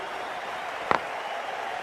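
A cricket crowd at a Royal Challengers match gives a steady, distant wash of applause and murmur, with one sharp knock standing out briefly in the middle.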